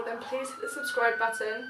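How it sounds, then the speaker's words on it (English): A wavering siren rises and falls in the background while a person talks over it, fairly steady throughout. "Sorry about the siren"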